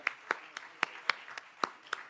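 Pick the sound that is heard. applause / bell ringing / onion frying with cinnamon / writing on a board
applause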